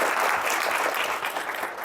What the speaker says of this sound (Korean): 박수가 있습니다.